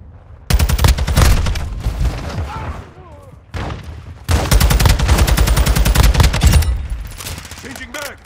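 TAQ-56 rifle gunfire in a Call of Duty Modern Warfare 2 multiplayer team deathmatch: two long, loud bursts of rapid automatic fire separated by a short lull, with faint shouted voices between them.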